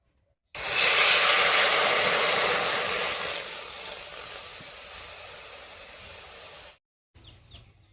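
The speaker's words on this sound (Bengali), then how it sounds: "এবার কড়াইয়ের মধ্যে একটু জল গরম করে নিচ্ছি।" Water heats in a wok on a lit stove, giving a loud, steady hiss that starts abruptly, fades gradually over several seconds, then cuts off, followed by a quieter brief rustle.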